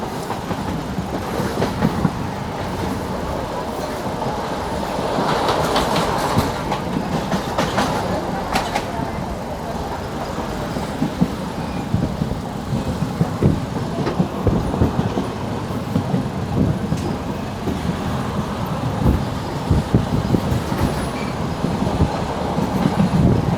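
A passenger train runs along the seashore between Colombo and Mirissa, its wheels keeping up a continuous rumbling clatter on the rails with scattered clicks and jolts throughout.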